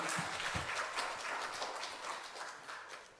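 A church congregation claps warmly to welcome a missionary, a dense, steady wash of applause from many hands filling the hall, with a few sharper claps standing out near the start.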